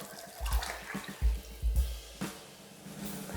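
Vegetable stock is poured into a pot of creamy tomato soup, giving a low, close series of glugging, sloshing splashes in uneven bursts, with no talk.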